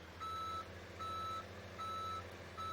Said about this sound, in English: And get the truck in reverse.